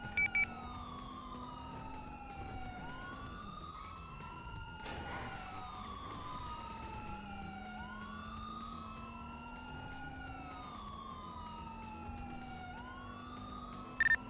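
Several overlapping police car sirens in a video game heist sweep up and down continuously with wailing tones, holding steady for the whole stretch at moderate loudness with a low engine drone beneath and brief clicks at the start and end.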